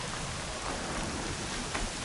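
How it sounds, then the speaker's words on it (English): Steady rain falls in the video game Horizon Zero Dawn, a dense, even hiss of drops throughout with no voices. "Here comes the rain."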